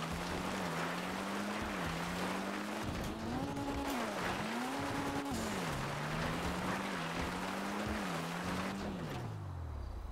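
A car in the video game GTA 5 is bogged in mud, its engine revving steadily with the pitch rising and falling in waves over churning, splashing noise, loud and continuous before winding down at the end, with no talking.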